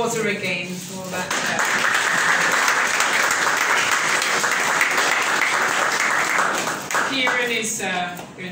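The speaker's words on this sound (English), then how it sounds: "Let's just applaud her again for that" Sustained applause from an audience at a parish prayer breakfast, a dense steady wash of many hands clapping for several seconds, with a few voices around it at the start and end.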